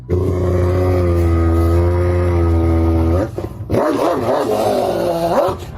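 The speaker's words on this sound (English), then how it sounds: "Wait until you meet the Central Asian Shepherd dog, a breed so fearless it's known for scaring off bears and wolves." A large Central Asian Shepherd dog, a livestock-guarding breed, lets out a sustained deep, loud growl that breaks into rough, uneven snarling and barking close by, with no talking.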